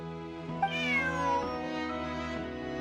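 Bonnie, a cat in a video game, lets out a single clear, drawn-out meow with a rising then falling pitch over soft game background music.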